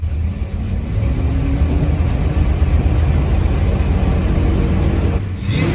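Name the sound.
1965 Chrysler 300L 413 engine idling rough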